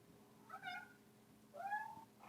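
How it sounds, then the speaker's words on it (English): A house cat meows twice, two short tonal calls about a second apart, fairly quiet against a low background hum. "I have to feed my cat at some point."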